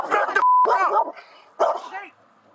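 A dog barks at police officers, giving a couple of loud, close, sharp barks with a brief electronic tone between them and a quieter trailing yelp.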